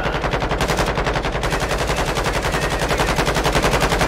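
Sustained automatic gunfire aimed at a juggernaut boss in Call of Duty: Modern Warfare 2, a loud, close, rapid rhythmic stream of shots that runs unbroken throughout.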